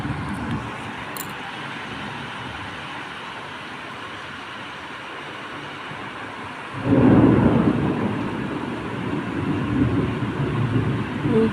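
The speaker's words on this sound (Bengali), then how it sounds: "এত মেঘ ডাকছে" Thunder in a rainstorm: a low, distant roll under steady rain, then a louder, closer rumble swells about two-thirds of the way in and keeps growling to the end.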